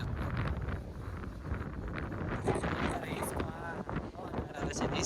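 Strong wind at Koliyak buffets the microphone in a constant rough roar, with people talking underneath throughout.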